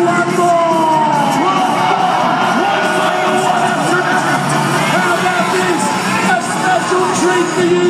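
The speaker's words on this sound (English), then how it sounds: "Just give me a round of applause, everybody." Large crowd at the Nitro Circus finale cheering, whooping and yelling in a steady loud roar of mixed voices, with no distinct claps standing out.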